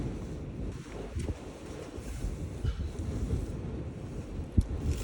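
Strong, gusty wind buffets the microphone near the summit of Ben Wyvis in the Scottish Highlands, a steady low roar with occasional sharper gusts and no talking.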